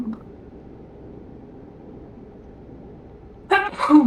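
After a few seconds of low hum, a sudden close sneeze bursts out, followed by a brief vocal sound.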